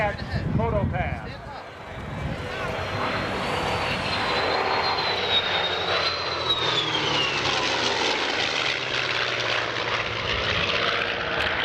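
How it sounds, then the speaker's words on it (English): Twin-engine Cat aircraft flying at the 1996 Cleveland National Airshow, a broad, steady propeller and engine roar with a drifting whine, loud and continuous, while an announcer talks over it. "The twin-engine Cats have accelerated"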